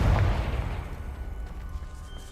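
A Confringo fire spell bursts in Hogwarts Legacy, opening with a heavy low boom that fades into a rumbling, crackling decay.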